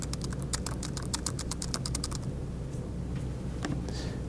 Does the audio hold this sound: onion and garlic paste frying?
no